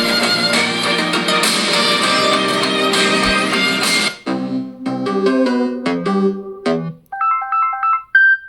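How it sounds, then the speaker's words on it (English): A ringtone melody plays loudly through the AKG-tuned speakers of a Samsung Galaxy Tab S9 FE 5G tablet, starting with a full, bass-rich passage that breaks into separate chimes and ends in a short, bright repeating tone pattern. "let's play some ringtone and let's see how good these speakers are on Galaxy Tab S9 FE 5G."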